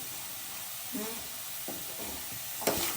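Masala fries in oil in a home kitchen, a soft continuous sizzle and hiss with a few stirring scrapes, low and steady under occasional quiet talk.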